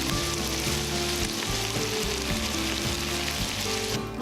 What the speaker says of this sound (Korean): 그리고 그 다음 센 불로 구워주세요